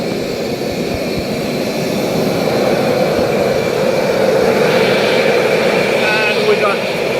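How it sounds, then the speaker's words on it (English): A gas ribbon burner forge roars with a big flame, a loud, steady, broadband rush with a hissing edge that holds throughout and swells slightly toward the end. "And we got quite a big flame here."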